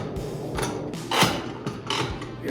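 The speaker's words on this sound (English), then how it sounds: "I'm gonna start clamping these together, tightening them down." Bar clamps being cranked tight on pairs of glued wood pieces, giving a few short ratcheting, clicking bursts that come close and fairly loud in an otherwise quiet workshop.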